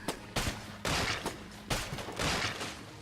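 Gunfire in the video game Enter the Gungeon, a few rapid bursts of loud, close shots, each volley lasting about half a second with short gaps between.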